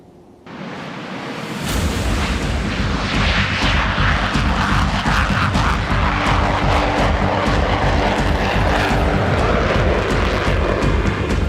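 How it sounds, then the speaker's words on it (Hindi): Indian Air Force fighter jets flying near the border, a loud roaring jet rumble that swells in after a moment and holds steady and close, with no voices. "सीमा रे लढुआ युद्ध विमान उड़ाइछि भारत"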